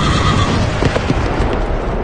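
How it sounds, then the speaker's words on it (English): Horse whinnying and hooves in a dramatized audio Bible reading of Revelation, a loud close neigh over a rumbling background, with hoofbeats mixed in. "Another horse, fiery red, went out."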